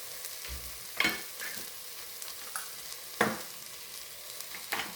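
Eggs fry in a hot pan for chicken fried rice, giving a steady close sizzle broken by a few louder spatula scrapes and stirring knocks, with no voices.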